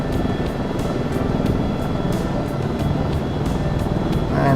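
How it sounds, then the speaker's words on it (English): An AS350 B3+ helicopter in a flight simulator game produces a loud, steady turbine and rotor drone with faint, regular blade thumps running throughout, close and continuous. "your nose dives in this helicopter"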